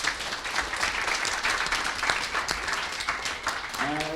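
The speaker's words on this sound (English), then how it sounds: "Give him a round of applause." Audience clapping for a team after its presentation and questions, steady dense applause throughout, with a voice coming in faintly near the end.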